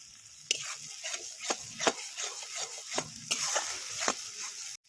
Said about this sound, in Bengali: বাটাটা দিয়ে আবার কষাবো।